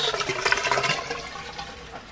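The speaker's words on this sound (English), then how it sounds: "Tipping it into the cockpit, letting it drain through the cockpit drains." Water tipped from a bucket into a yacht cockpit rushes and gurgles down the cockpit drains, a loud hissing splash at first that gradually thins out.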